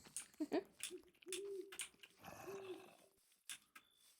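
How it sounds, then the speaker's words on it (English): Owl hoots from a Minecraft modpack's ambient sounds ring out in several soft, low, separate calls over a quiet background, mixed with a few faint clicks and other game noises. "Is that owl sound on there?"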